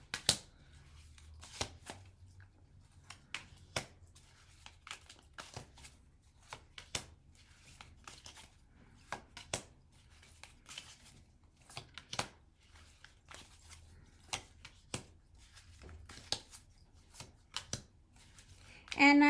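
Tarot cards from the Weird World deck are shuffled in a quiet room, a long run of soft, irregular riffling and snapping bursts with brief pauses between.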